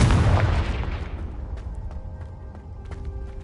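A Confringo blasting spell explodes in Hogwarts Legacy: a loud, close boom hits at once and then rumbles away over about three seconds, leaving faint ringing tones and small crackles.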